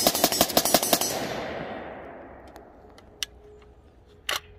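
Romanian AIMS 74 pistol firing outdoors: a rapid burst of about eight loud sharp shots in the first second, ringing off into a long decaying echo, followed by a couple of faint clicks and a metallic rattle.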